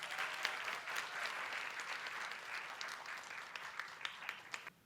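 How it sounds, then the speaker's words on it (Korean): Applause from an audience at a political party founding convention welcoming a speaker, sustained clapping from a crowd heard at moderate distance and thinning out toward the end. "큰 박수로 맞이해 주시기 바랍니다"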